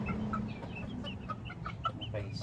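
Two-month-old chickens clucking in a backyard flock, a run of short, close clucks and chirps scattered over a steady low background noise.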